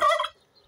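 A voice imitates a turkey gobble, giving one short, loud, warbling burst that cuts off quickly and leaves near silence.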